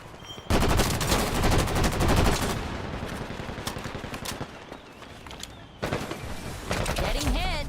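Gunfire in the online shooter Combat Champions: rapid machine-gun bursts crackle loudly, ease into sparser shots, then return in another dense volley, with game voice lines mixed in.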